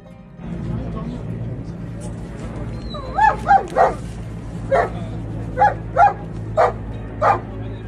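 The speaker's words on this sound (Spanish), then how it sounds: "Este perro atrapado en departamentos destruidos empezó a ladrar para ser rescatado." A dog trapped in earthquake-destroyed apartments in Turkey barks repeatedly in short, sharp bursts, some sounding strained and whimpering, spaced irregularly over a low background rumble.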